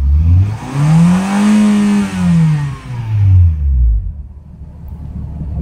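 A car engine, with a faulty voltage regulator that trips the battery light at around 3000 RPM, revs up and falls back in a few loud, close, rising and falling sweeps, then settles to idle.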